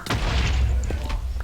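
A loud, booming blast from a video game explosion rolls on for over a second, with dense low rumble and crackling bursts layered on top.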